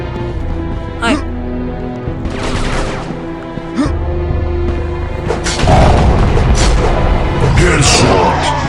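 Gunfire from a headshot on a zombie in a video game: loud booming shots and bursts of fire under continuous talk, with a dense, heavy burst of shooting toward the end.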